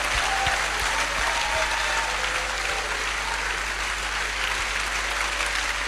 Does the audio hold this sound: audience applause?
yes